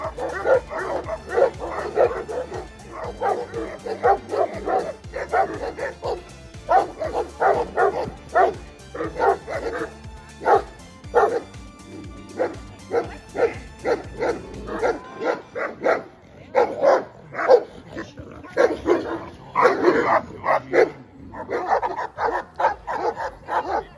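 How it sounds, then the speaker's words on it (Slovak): Young Moscow Watchdog puppies bark and yip repeatedly in irregular bursts during guard dog training, several dogs overlapping at close range with occasional whimpers, the barking continuing throughout. "preto niekedy šteniatá začnú štekať a ešte ani nevedia na čo"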